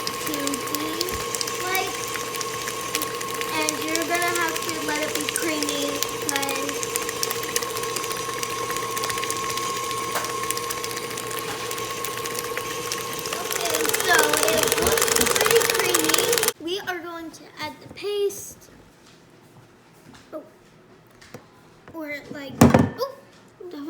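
An electric mixer whirs loudly and steadily while mixing asparagus roll filling, its motor tone holding for about fifteen seconds before cutting off, after which a person speaks.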